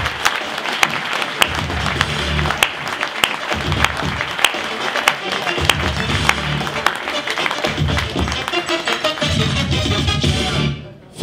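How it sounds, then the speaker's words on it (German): Audience applauding a comedian at a stand-up and improv show in Bern, dense clapping filling the room for several seconds with music-like tones underneath, then fading abruptly at the end. "Ein Applaus für den Joel von Motzenbecher."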